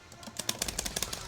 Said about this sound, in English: the normal characters when you shoot cannot shoot this fast, but Rex has no cap on the amount of times that he can shoot his bullet